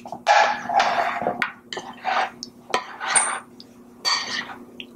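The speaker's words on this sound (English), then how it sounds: "Condensed milk. Okay. I have to mix it together." Condensed milk being mixed for a mango refrigerated cake, with a run of scraping, clinking utensil-on-bowl strokes in quick irregular bursts, close and fairly loud, and no talk.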